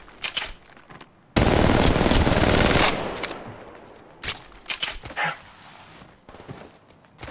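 Rapid automatic gunfire in the Apex Legends Mobile video game, a loud sustained burst of about a second and a half, followed by scattered sharper shots and impacts.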